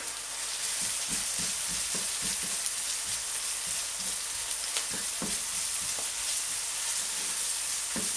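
Four garlic cloves frying in a pan as the base for a bolognaise sauce, a steady close sizzle with faint stirring scrapes throughout, no talking.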